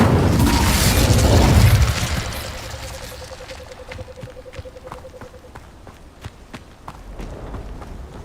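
An Incendio fire spell bursts in Hogwarts Legacy, a loud roaring blast for about two seconds that quickly fades, followed by quieter, evenly spaced footsteps.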